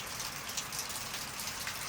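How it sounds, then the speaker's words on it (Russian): Rain falling outdoors in the mountains, a soft, steady hiss of drops with faint patters on surfaces, alone and fairly quiet. "Дождь на улице покажу."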